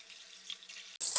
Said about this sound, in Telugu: వేడి నీళ్ళతో సరసరా కడిగేయచ్చు